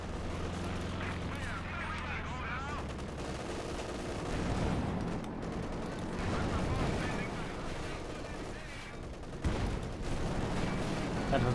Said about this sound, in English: That was the field gun.